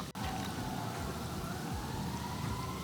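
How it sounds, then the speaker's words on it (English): A faint siren wails in the distance, its steady tone barely rising over a constant hiss of rain or background noise. "I don't know if you guys can hear that, but sirens now."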